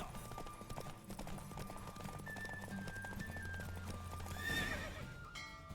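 A horse's hooves in the video game The Witcher 3 clip-clop in a steady galloping rhythm during a race, close and continuous, with a whinny breaking through near the end.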